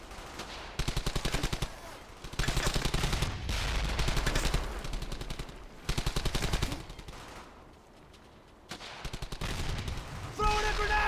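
Rapid bursts of automatic gunfire in the World War II shooter Brothers in Arms: Hell's Highway, loud sustained volleys separated by short gaps, with a brief quieter lull and scattered shots near the end.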